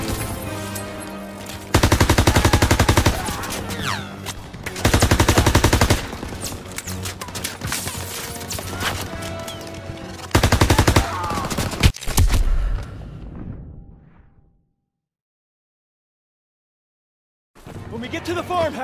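Loud machine gun fire in the Call of Duty WW2 campaign comes in long rapid bursts from a gun in a hayloft. Shouting voices mix with the fire, and after about 14 seconds there is a brief silence before the shooting resumes.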